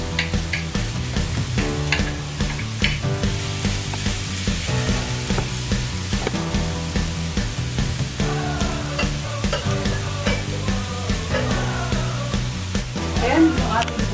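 Zucchini and carrots stir-frying in a pan for instant pancit canton with shrimp, a continuous close sizzle broken by repeated scraping and tossing strokes.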